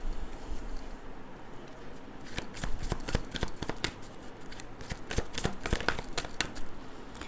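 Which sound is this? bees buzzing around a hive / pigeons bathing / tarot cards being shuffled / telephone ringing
tarot cards being shuffled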